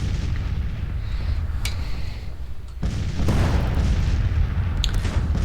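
Artillery fire in a Civil War strategy video game, a continuous rumbling barrage of low booms and distant cannon reports layered over one another, with a brief lull before the din swells again.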